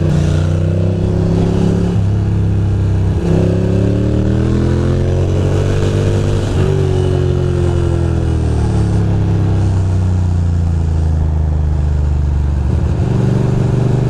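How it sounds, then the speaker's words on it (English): A motorcycle accelerates hard through Brooklyn traffic, loud and close with a rising, shifting engine drone that climbs through the gears for the whole stretch, no talk over it. "Once in a while I forget how quick this bike can be"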